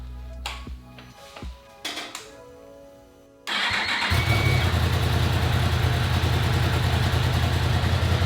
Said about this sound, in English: You got to turn the bike on to warm the oil up because that way it flows correctly.